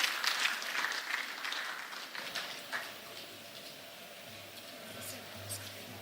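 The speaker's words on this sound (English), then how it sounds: "A round of applause." Audience applause welcoming a speaker at a national mining dialogue event, a spread of hand claps that is loudest at the start and then thins into a faint, fading patter.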